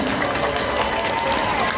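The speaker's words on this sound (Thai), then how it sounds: "แม่จ๋าปรบมือให้กับไรอันหน่อยครับ" Audience applause and crowd noise at the first-anniversary celebration of the IM FOOD event, a steady, dense clatter of clapping filling the whole short stretch.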